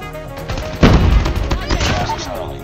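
Rapid bursts of AK rifle fire in a first-person shooter match, loud and dense from the midpoint onward, mixed with game effects and possible voice chat.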